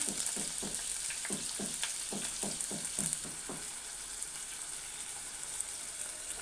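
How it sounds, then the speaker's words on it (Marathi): Green peas and paneer sautéing in hot oil in a kadai: a steady close sizzle with a run of rhythmic scraping stirs in the first half, then frying continues alone. "हे आपण तेलामध्ये परतून घ्यायचं आहे"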